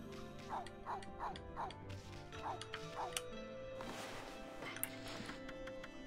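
A dog character in the video game Okami gives a run of short yips and barks, a series of quick bow-wows, then a faint whimpering tail-off over a quiet game soundscape.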